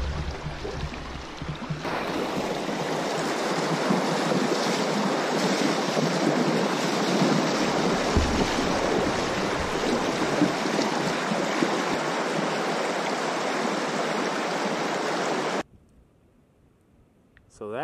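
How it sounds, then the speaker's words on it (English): Steady, loud roar of rushing whitewater at a waterfall on a wild Labrador river, heard from close by in a continuous broadband wash that cuts off abruptly near the end. "So that's our waterfall number one."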